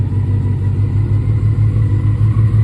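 A Honda CBR F1 Hurricane 600 motorcycle engine idling while warming up, a loud, steady low rumble close by with an even throb and no voices.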